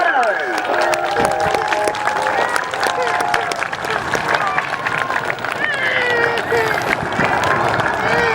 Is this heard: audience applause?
yes